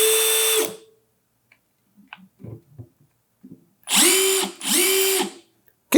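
A Milwaukee M12 Fuel impact driver spins up in three short loud bursts: one at the start, then two back-to-back about a second each, separated by quiet handling clicks and taps.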